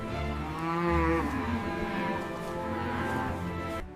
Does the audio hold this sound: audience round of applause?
no